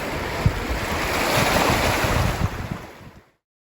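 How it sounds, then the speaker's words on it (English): At Boothbay Harbor in Maine, ocean surf washes steadily, close and broadband, with wind buffeting the microphone before the sound cuts off abruptly. "Behind me is the water of Booth Bay Harbor in Maine."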